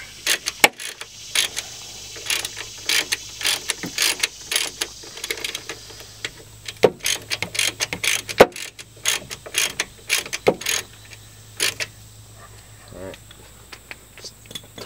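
A ratchet clicks in repeated quick bursts while tightening a Torx bolt on a Jeep Wrangler brake hose and caliper, close and crisp, with short pauses between runs of clicks.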